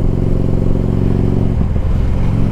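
An Ultra Limited car engine pulls hard on a 0-60 run, a loud, close, continuous rumbling drone with a brief dip in the middle, just before a shift near 60.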